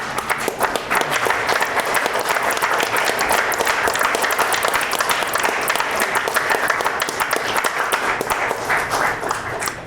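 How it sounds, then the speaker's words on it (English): Attendees at a village board meeting in Burr Ridge stand and give a hearty round of applause, roughly ten seconds of close, continuous, even clapping with no talk over it. "Stand and give him a real round of applause"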